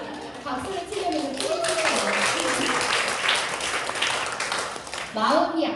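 Audience applause fills a Korean lecture hall, broad and steady, with a speaking voice weaving over it throughout.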